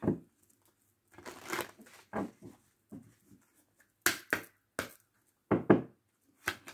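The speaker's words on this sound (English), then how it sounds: "All right, one more shuffle." Tarot cards being shuffled by hand, heard as several short, crisp bursts of papery riffling and slapping separated by brief pauses, fairly close and alone.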